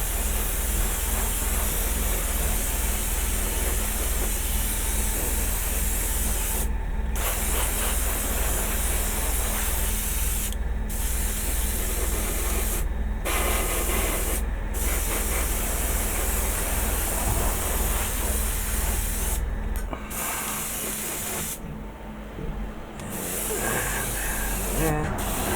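Aerosol spray paint laid as a misty coat over a vinyl Godzilla model kit, a long near-continuous loud hiss broken by several short pauses, with a longer gap near the end.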